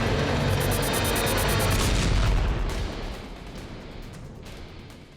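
A heavy, booming blast in the style of an atom bomb explosion sound effect roars loudly with dense rumble, then slowly fades away.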